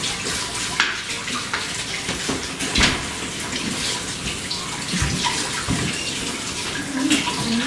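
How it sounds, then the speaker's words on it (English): Water pours steadily into a cooking pot, a continuous loud splashing rush that holds throughout with a few clanks and small shifts in flow. "okay, so here comes the water."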